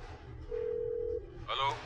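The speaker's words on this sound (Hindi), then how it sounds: "कादर भाई को फोन लगाता हूँ।" A telephone dial tone sounds as a man places a call in a Hindi film scene, a steady mid-pitched tone lasting under a second, followed by brief electronic beeps, with low background murmur throughout.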